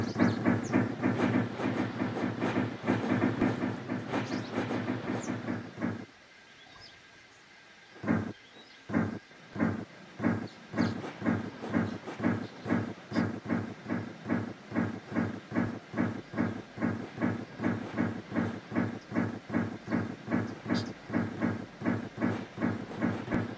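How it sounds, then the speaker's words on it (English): A train runs in Minecraft with a steady, rhythmic clickety-clack of wheels over rail joints, briefly dropping out near the start before the regular beat resumes and continues evenly to the end. "So you start a train."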